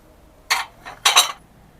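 Two short bursts of metallic clinking, a single knock and then a double clatter, like enamel pots knocking together nearby, with quiet in between.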